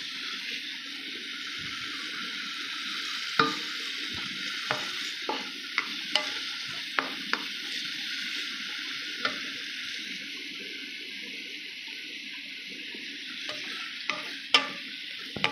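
Sotanghon guisado being stirred in a pan on an electric stove, a steady sizzle broken by sharp spatula clicks and scrapes at irregular intervals, close and clear with no talking.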